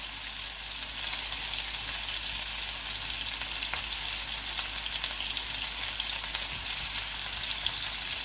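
Meatballs sizzling and frying in a pan, a dense steady hiss and crackle running throughout at an even level, close by with no talk.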